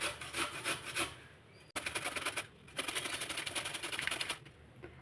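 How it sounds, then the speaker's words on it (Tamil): Radish grated on a metal grater in quick rhythmic rasping strokes, close and fairly loud, with a brief pause partway before the scraping resumes steadily. "இப்போ முள்ளங்கி வந்து நல்லா துருவிக்கலாங்க"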